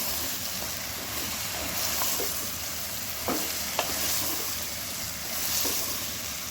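Chopped bottle gourd being stirred in a cooking pan, a continuous close sizzle with scraping and a few sharp utensil knocks against the pan, no voices.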